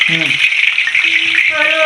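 Dal tempering (varan phodni) in hot oil gives a steady bright sizzle and hiss throughout, with a voice talking over it.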